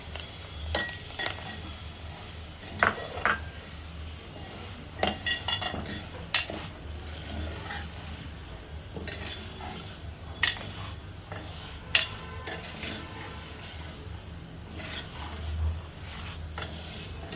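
Vermicelli fries in ghee for kheer, a quiet sizzle beneath frequent spoon scrapes and metal clinks against the pan as it is stirred, no voices.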